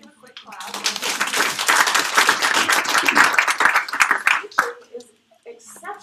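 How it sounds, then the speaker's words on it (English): Debate audience applauding in a room for educators, a steady wash of clapping lasting about four seconds before tapering into scattered claps, with voices mixed in. "let's give a quick clap."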